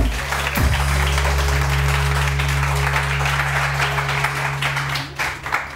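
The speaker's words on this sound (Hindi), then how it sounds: "बहुत सारी तालियां जी, बहुत सारी तालियां" Studio audience applause on a Pakistani morning talk show, a steady wash of clapping over a sustained musical hum, fairly loud and continuous throughout.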